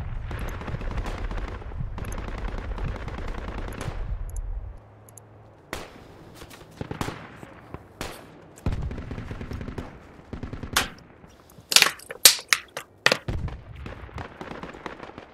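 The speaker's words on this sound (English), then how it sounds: "we got rifle fire west of cache" Rifle fire in the Project Reality military shooter, sharp single shots and short bursts at close and middle distance, some echoing, over a low rumble that drops away partway through.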